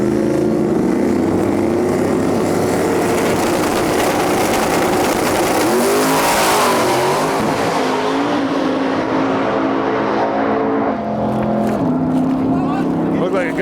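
Drag racing cars roaring down the strip on qualifying passes at a Lights Out event, a loud sustained engine blast that rises in pitch and then fades, with a commentator talking throughout.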